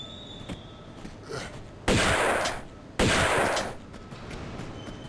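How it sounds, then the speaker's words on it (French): Rifle fire in the video game Tomb Raider II: two loud, sharp shots about a second apart, each with a long fading tail, over quiet game ambience. "Bon, bah du coup j'utilise mon fusil par contre."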